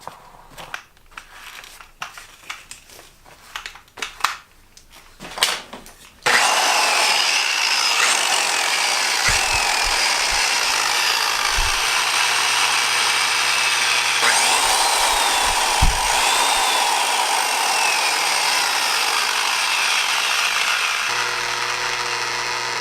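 A slow-running, high-torque power tool sands the hotcoat of an XPS foam surfboard, a loud continuous grinding rub that starts abruptly after a few seconds of handling knocks and holds steady, with occasional low thumps.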